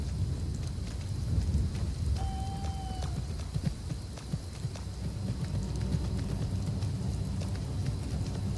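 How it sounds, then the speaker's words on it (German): Steady rain falls in the fantasy game Skyrim, a continuous hiss spread across the whole stretch with faint scattered taps and a brief tonal whine partway through, with no talk. "Rain makes the landscape look mysterious."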